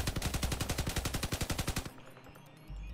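A fast burst of machine gun fire in the video game Crossout, around twenty rapid evenly spaced shots in under two seconds, loud and close, then a short quiet tail.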